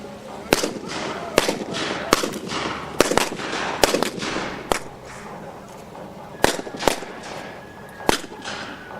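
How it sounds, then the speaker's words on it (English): Model warships at a pond model show fire their miniature guns in a rapid, irregular series of sharp, loud cracks and pops, some bunched close together, over a steady outdoor background. "The ships fire as soon as their guns are brought to bear upon the enemy."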